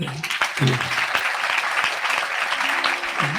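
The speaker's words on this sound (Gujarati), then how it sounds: "ચલો તાળીથી વધાવો" An audience at a Swaminarayan religious discourse gives steady, full applause, close and continuous, with a few voices faintly audible beneath the clapping.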